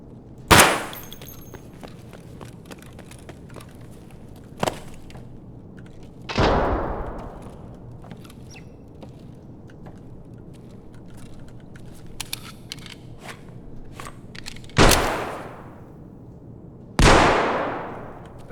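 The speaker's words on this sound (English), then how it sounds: "It certainly seems like impact grenades." Impact grenades exploding in the shooter game Escape from Tarkov: four loud, sharp blasts with rumbling decays, spaced several seconds apart, between scattered fainter gunshots.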